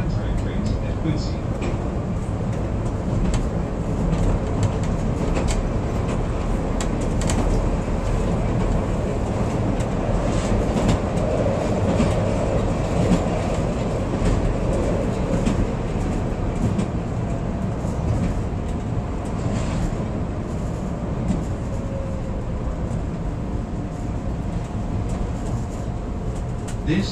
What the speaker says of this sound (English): This is a Brown Line train to Kimball.